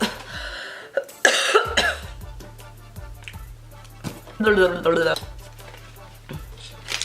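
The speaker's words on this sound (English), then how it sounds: "This damn cough." Several sharp coughs come in bursts, close by, with clattering and tapping sounds between them and a quiet voice here and there.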